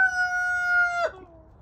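A single rooster crows close by, a loud, sustained harmonic call that breaks off sharply near the end into a softer trailing note.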